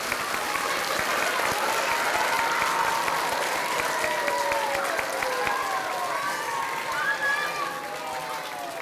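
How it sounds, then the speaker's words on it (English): Outdoor Arbor Day crowd at an elementary school clapping steadily in sustained applause, a dense wash of many hands with a few voices calling out over it, fading slightly near the end. "And now is your chance to give them all a huge round of applause"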